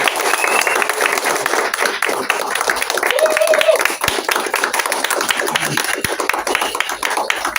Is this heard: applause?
yes